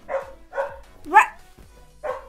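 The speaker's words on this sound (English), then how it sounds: "Right after I went shh, she proceeded to bark." A female dog barks in four sharp, separate bursts spread over about two seconds, fairly close and loud, with one higher yelping bark in the middle and no talking.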